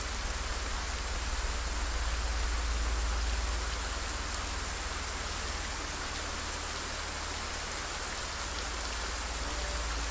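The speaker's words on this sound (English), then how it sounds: "The rain is too much." Steady, dense rain falls in the Project Zomboid video game, a continuous even hiss with no breaks and no voices over it.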